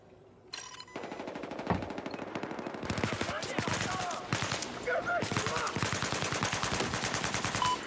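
Rapid automatic gunfire and ricocheting shots from Battlefield 4 on the Operation Mortar map, Naval Strike conquest mode, rattling in dense bursts that grow louder and more continuous, with some talk underneath.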